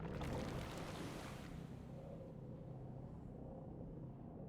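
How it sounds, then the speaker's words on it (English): Flood waters from a burst dam gurgle and rush over a swamp camp in the video game Dungeons 2, a loud wash of water at first that settles into a steady, lower churning rumble. "the Alliance's camp disappeared under waves of water with a very satisfactory gurgling"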